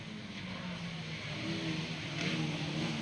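Lightning Rod race cars lap Bovingdon Raceway, a steady blur of engine drone from several cars that swells slightly as they come by at moderate distance.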